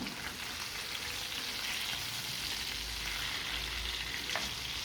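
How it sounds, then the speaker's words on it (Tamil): Ayila fish (mackerel) fries in a pan with a steady, dense hiss of sizzling oil, close and even throughout, with a faint tap near the end. "இப்போ வந்து அதை திருப்பி போட்டு அடுத்த பக்கத்துக்கு வேக விடலாம்"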